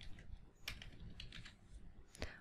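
Light typing on a computer keyboard while entering text in a Word document, a quiet scatter of key taps with a few sharper clicks, heard alone at close range.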